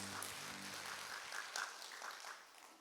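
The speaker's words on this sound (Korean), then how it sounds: "우리와 늘 함께 하시며 우리의 선한 목자 되신 하나님께 감사와 영광의 박수 올려드립니다." A church congregation applauds at a Monday intercessory prayer meeting, a dense even wash of many hands clapping that fades toward the end, with a low hum underneath.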